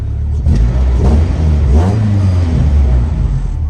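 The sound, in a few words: Honda B20 engine revving with new coil packs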